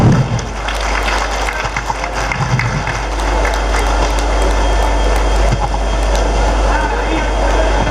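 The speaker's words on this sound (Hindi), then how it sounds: "जोरदार तालियां।" Loud, sustained applause fills a hall at a public meeting about constitutional rights, a steady wash of clapping from a large crowd that continues without a break.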